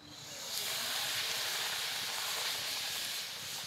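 Semolina hits hot refined oil in a wok with a soft, steady hissing sizzle that swells in after half a second and holds for several seconds, fairly faint and without talk.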